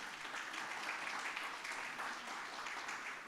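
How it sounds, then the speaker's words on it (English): Conference audience applause fills the room as a continuous, even wash of many hands clapping, steady and moderately distant without breaks. "Please, applause."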